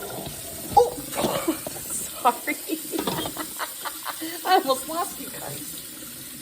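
Cool water runs from a sink tap over an over-the-sink drain while food is rinsed in a home kitchen, a steady splashing stream with intermittent clatters beneath a person's brief speech.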